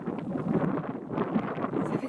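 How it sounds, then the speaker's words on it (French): Wind blowing outdoors at a meal outside, buffeting the microphone in a continuous rough rush that swells and dips. "Il y a du vent?"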